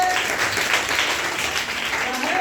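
Short burst of classroom clapping by students in a school setting, moderately loud and continuous, with faint background murmur.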